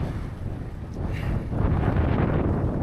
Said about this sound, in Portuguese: Muito forte o vento